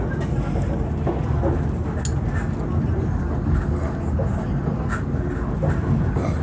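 Train rolling along rails in Alaska beside a waterway, a steady low rumble of wheels and carriage with faint intermittent clicks and rattles over the track.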